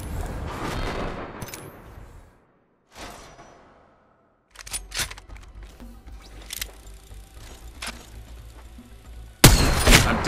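Video game gunfire: several sharp separate shots and short bursts that come in bunches, with quiet gaps between them and a loud crack near the end.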